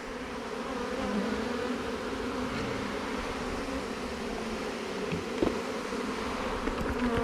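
Honeybees swarm around an open hive being restacked, a dense, continuous buzz that is loud and close throughout, with a few faint knocks of hive parts underneath and no voices.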